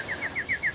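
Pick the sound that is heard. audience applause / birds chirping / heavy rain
birds chirping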